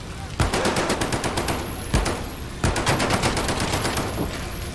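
Rapid automatic gunfire from the Medal of Honor VR game rattles in three loud, close bursts, each a fast stream of sharp shots with brief gaps between them.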